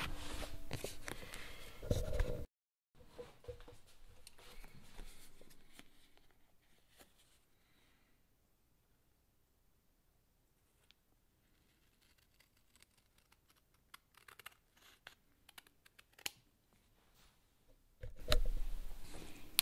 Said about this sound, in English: I'm using a utility knife to get this separated from the cardboard backing.